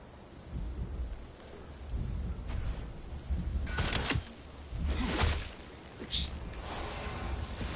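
A thunderstorm in the video game God of War Ragnarök: steady rain hiss with several rolling thunder bursts swelling and fading, fairly quiet overall, no one speaking.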